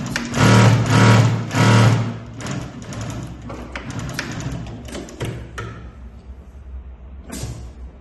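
A Mauser Spezial 2645 heavy duty leather sewing machine stitches in a loud, steady run, then drops into quieter clicks and thumps of the mechanism before a short final burst.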